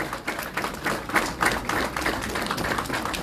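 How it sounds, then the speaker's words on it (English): Audience clapping after a panel discussion at a DJ music conference, a dense stretch of irregular hand claps at moderate loudness, steady throughout with no talking. "Give a round of applause, y'all."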